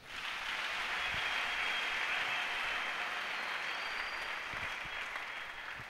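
A church congregation applauding the Lord, a full, sustained burst of clapping from many hands that rises quickly and carries on evenly before easing slightly at the end, with no voices over it.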